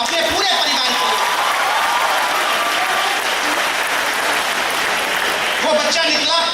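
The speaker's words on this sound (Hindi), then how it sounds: "आइए एक बार अपने कॉलेज के नाम पर भरपूर तालियां अपने पूरे परिवार के लिए।" Steady, dense applause from a large crowd at a college event fills the whole stretch, loud and continuous with a swell near the end.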